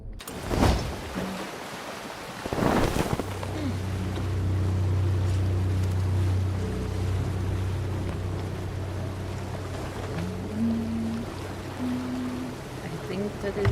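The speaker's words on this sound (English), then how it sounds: "As a boat passes beside us" A boat slides past close by in the Sea of Thieves pirate game, a steady low rumble and water wash that swells and holds for several seconds, with soft background music tones over the top.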